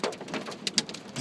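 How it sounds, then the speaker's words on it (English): Hail from a Nebraska hailstorm pelts the ground in a dense, crackling patter of sharp impacts, steady and close throughout the brief moment with no talk. "I ain't never been in no hailstorm like this"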